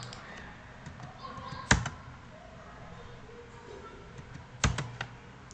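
A few scattered keystrokes on a computer keyboard while code is typed, mostly quiet, with two sharper, louder key strikes standing out over low room noise.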